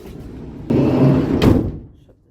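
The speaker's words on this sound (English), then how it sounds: "Shut the door." A van's door is pulled shut, a broad loud rush and thud from close by, followed by a second heavy clunk as it closes, then quiet.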